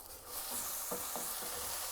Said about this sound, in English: it's very important to fry those spices off so you're not left with a harsh flavour